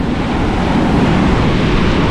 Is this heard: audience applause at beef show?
no